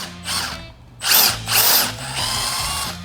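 A power drill spinning out the Allen bolts on the clutch of a 1996 Kawasaki ZX6R: three short close bursts of high whirring, the middle two loudest, with a brief low idle-like hum between, no talking.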